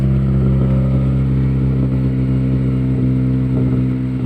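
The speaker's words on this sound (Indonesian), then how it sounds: "Knalpotnya kayak bet gitu, kayak berebet." A 2010 Honda Jazz engine idling steadily near 2000 RPM with its exhaust sputtering, a continuous loud low rumble with slight irregular pulses, close by and with no voices.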